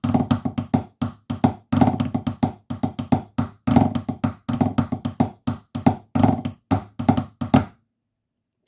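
Marine-style snare drum solo, part one of Illawalla, played alone up close: dense rapid strokes, rolls and accents in steady phrases, ending abruptly before a short silence.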